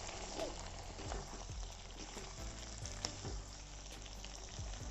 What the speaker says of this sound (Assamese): মিডিয়াম ফ্লেমত এইখিনি লৰাই অকণমান সময় ভাজি ল'ম